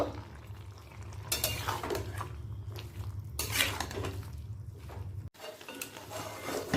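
Mustard paste is mixed into cooked vegetables in a pan, giving soft scraping and clinking of the utensil against the pan over a faint sizzle, close and moderately quiet.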